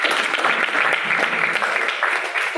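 An audience claps loudly and steadily for a couple of seconds at a motivational talk. The dense, even applause fills the room without a break.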